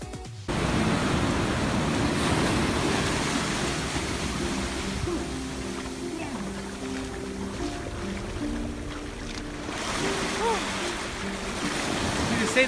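Ocean surf washes against a shore where a stranded dolphin lies, a broad steady rush of breaking water, loud and close, with faint mixed sounds beneath.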